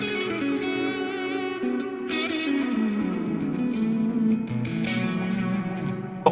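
Electric guitar played through a Fender Tone Master Pro with stacked pedals, giving a sustained distorted tone with chorus and echo, notes gliding downward and fresh picked attacks breaking in, heard alone and up close.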